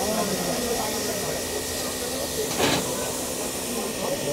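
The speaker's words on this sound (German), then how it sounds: "so eine Dampfzug-Sonderfahrt von der Eisenbahnfreunde zur Landbahn, die jetzt hier auch mal in die Schweiz fahren" A steam locomotive on a special excursion run between Singen and Etzwilen gives off a steady hiss under continuous ambient noise, with one brief, louder burst of steam midway.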